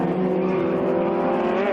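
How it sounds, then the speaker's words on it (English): Formula Vee race cars tear through Continental Corner at the Welkom circuit, their engines giving a loud, close, sustained buzzing drone that holds steady with a slight rise in pitch. "Anthony Taylor and Peter Hills on the limit through Continental Corner, and not one of them willing to give an inch"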